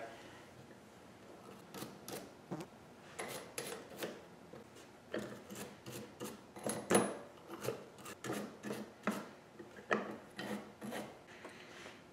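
A bristle brush scrubs dirt from the exterior of a Winchester 1897 shotgun in a series of short, close, raspy strokes that come in irregular bursts, with no talking.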